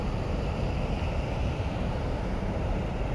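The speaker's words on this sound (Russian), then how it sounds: "Вот такой тоже водопад, пороги." River rapids and a small waterfall in winter give a steady, close, broadband rushing roar that stays even and unbroken throughout, with no voices over it.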